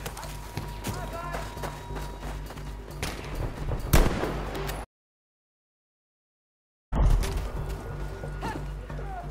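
Explosions and gunfire from the video game Battlefield 5 rumble and crack in a steady, dense stretch, cut by a sudden gap of silence before the battle noise returns just as loud.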